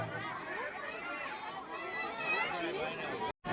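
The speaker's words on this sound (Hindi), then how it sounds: "देख सकते हैं भीड़" A dense crowd packs the Ramleela ground on the second day of the Ramleela during Navratri, its steady murmur of overlapping voices and chatter filling the air without pause.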